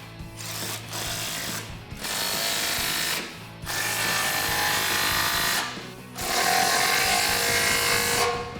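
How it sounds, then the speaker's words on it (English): A ratchet tightens the clamps on a Borla ATAK cat-back exhaust being fitted to a 2015-2017 Mustang GT Fastback, in four bursts of quick close clicking separated by short pauses. "you can just go through and tighten your clamps on this side."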